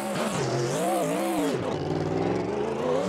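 Two BMW drift cars at the start line of a Drift Corner Grand Prix round at Nogaro: loud, close engine revving with rising and falling pitch, engines held at high revs, no voices.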